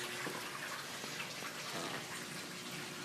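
Water runs steadily through a pipe from a bell siphon into a sump tank, a faint continuous splashing trickle that stays even from start to finish with no voices.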